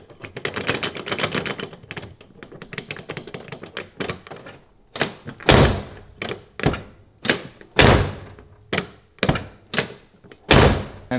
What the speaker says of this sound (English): here's a little demo of the stock door handle, how it opens, the looseness of it and everything.